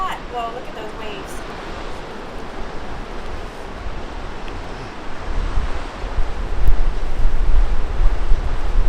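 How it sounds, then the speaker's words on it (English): Ocean waves break on a shore beside a coastal e-bike route, heard as a steady broadband wash that swells louder toward the end, mixed with strong wind rumble on the microphone and a brief voice at the start. "Well, look at those waves."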